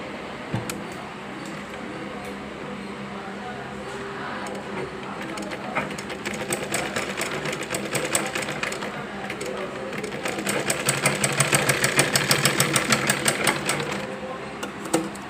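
A sewing machine stitching cloth for a neckline, a fast even mechanical whirr with rapid ticking that speeds up and grows louder in the second half, with a voice speaking briefly.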